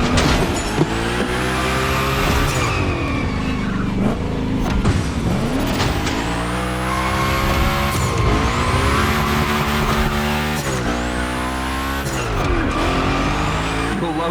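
Car drifting through gymkhana training in The Crew Motorfest, engine revs rising and falling in repeated sweeps with tire squeal and skidding, loud and continuous throughout with no talk.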